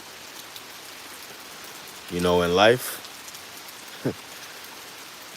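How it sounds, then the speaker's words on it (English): Steady late-night rain falls continuously as a soft, even hiss. Someone speaks briefly partway through. "I know you hear that rain in the background."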